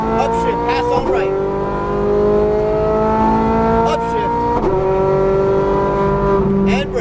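A Ferrari 430 Scuderia race car accelerates hard on a track, its engine note climbing steadily and dropping at each quick upshift in a repeated rising pattern, loud and close, with an instructor's voice talking over it.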